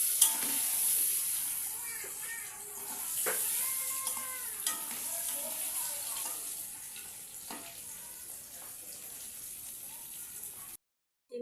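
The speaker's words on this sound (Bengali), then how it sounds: "এবার আমি হালকা করে ভেজে নেব" Eggs seasoned with turmeric and salt fry gently in oil in a kadai, a soft constant sizzle broken by occasional scraping stirs and light clinks of the spatula.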